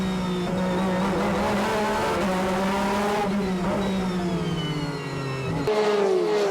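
Race cars, including LMP1 hybrids and LMP2 prototypes, accelerate away at the start of the 4 Hours of Silverstone endurance race. Engines wail and rise in pitch as the pack passes, with a sharp change in tone near the end.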